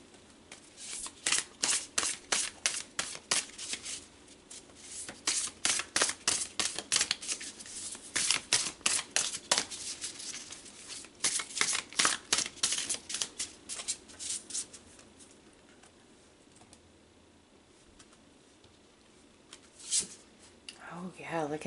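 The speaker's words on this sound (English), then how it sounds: "let's pull some more cards" Tarot cards being shuffled by hand, a long run of rapid, crisp riffling flicks in quick bursts for about fifteen seconds, then quieter handling and a few final snaps near the end, with no talking.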